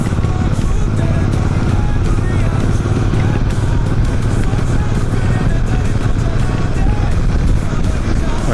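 Royal Enfield Super Meteor 650 motorcycle cruising along a seashore road on the west coast, a steady loud engine drone with heavy wind rush filling the whole stretch without pause.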